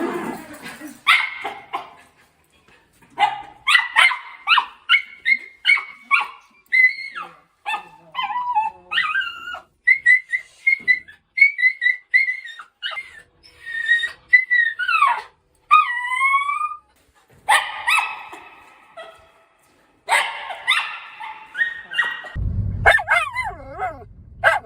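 A dog with separation anxiety barks close by in short, repeated bursts mixed with high, sliding whines and yips, pausing briefly between volleys.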